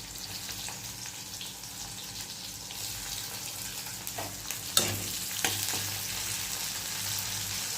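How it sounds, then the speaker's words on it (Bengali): Onions fry in hot oil with a steady, soft sizzle, broken by a few louder crackles and stirring clatters partway through; no voices are heard. "পেঁয়াজগুলো ভাজতে দিয়ে দেবো ফার্স্টে"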